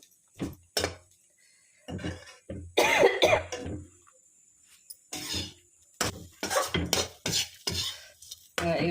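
Utensil stirring ivy gourd fry with grated coconut in a pan, a series of scraping strokes and clinks in irregular bursts with brief pauses between them, close and fairly loud.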